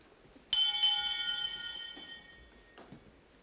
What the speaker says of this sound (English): The kai-chinrei, or bedtime bell, is rung at 9 p.m.